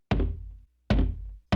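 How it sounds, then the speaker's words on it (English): Two heavy, hollow thunks land about a second apart, each ringing out with a short decay, with a third blow just starting at the end; close and loud against silence. "And one day, there came a knock on the door."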